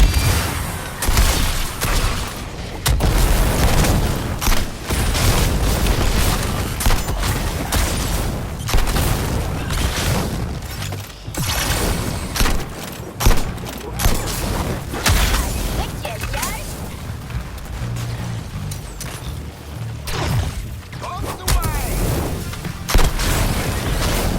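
Gunfire and explosions in the Suicide Squad: Kill the Justice League game: dense bursts of shots, booms and impacts crackling continuously, mixed with game music and voices talking over the action.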